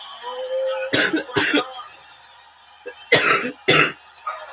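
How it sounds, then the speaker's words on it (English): Several sharp coughs in two pairs, close and loud, with a brief pause between the pairs and a quiet hum beneath. "I have a horrible cough"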